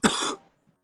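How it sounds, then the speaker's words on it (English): A single short, harsh cough, close and loud, cut off quickly into silence. "I'm coughing too much"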